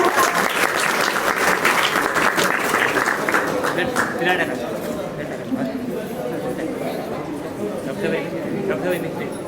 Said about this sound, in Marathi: कोडगिरे ताईंसाठी एकदा जोरदार टाळ्या